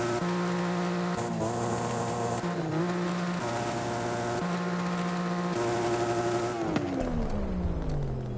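A car engine fitted with a race exhaust idles and revs in the Forza Horizon 5 video game, a steady droning tone that steps up and down in pitch with short shifts, then a rising sweep near the end.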